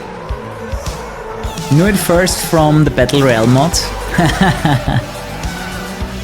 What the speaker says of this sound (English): Drifting through the city is pretty fucking cool.